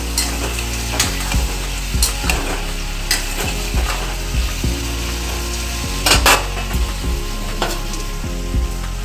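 Bottle gourd cooking with a fish head in a pan is stirred with steady scraping and clinking against the metal over a continuous sizzle, the spoon strokes coming in an uneven rhythm.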